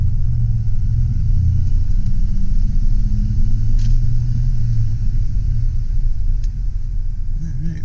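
A 1989 Ford F-250 XLT with a 5.0L V8 and five-speed manual backs up in four-wheel low, its engine a steady, loud, close low-pitched rumble throughout with a faint whine over it.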